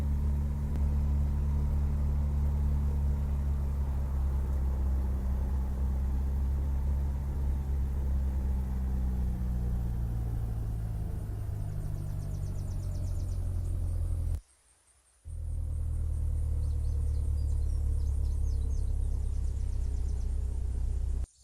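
A large seaplane in the video game Unturned flies with a continuous low engine rumble and drone that shifts slightly in pitch, cut off by a brief silence before resuming.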